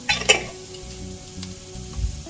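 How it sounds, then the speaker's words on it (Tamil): Carrots sizzle and fry in a pan with a steady crackle, punctuated by a couple of scrapes as they are stirred. "ஸோ இங்கே கேரட் நல்லா வதங்கட்டும்"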